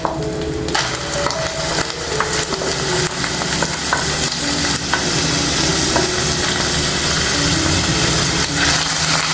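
Coconut paste with ginger-garlic paste and onions frying in hot oil for mutton curry, a steady loud sizzle with scraping stir strokes throughout.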